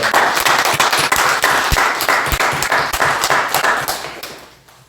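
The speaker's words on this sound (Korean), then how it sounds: "우리 박수로 한번 환영해 주시기" Congregation applauding in church to welcome the pastor and his family on stage, a dense, steady wash of clapping that holds loud for about four seconds before tapering away.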